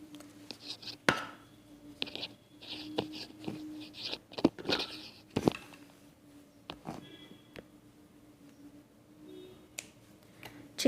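Scissors snip thread for a saree tassel, with a series of short, irregular close cutting clicks spaced over quiet background.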